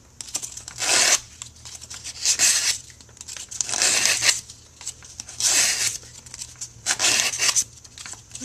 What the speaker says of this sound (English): these papers coming apart